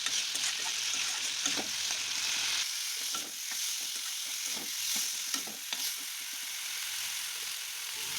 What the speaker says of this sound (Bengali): টমেটোগুলি মশলার সাথে একটু কষিয়ে নেব নেড়ে চেড়ে।